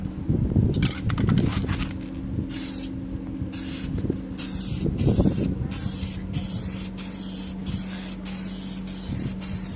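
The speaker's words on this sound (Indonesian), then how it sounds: "baru kita mulai aja penyemprotan pertamanya." Repeated bursts of hissing spray paint applied to a Yamaha Megapro motorcycle part, each lasting a second or so with short pauses between, over a steady low compressor hum.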